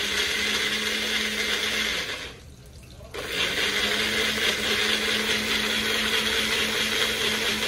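Mixer grinder blending tomatoes into a paste: a loud, steady whirring motor roar that briefly drops off for about a second before surging back at full strength, close up, with no talking.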